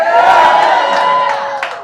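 A crowd cheers and yells loudly at a ringside roast event, a sustained roar of voices with some shouting that holds steady for about two seconds before tapering slightly.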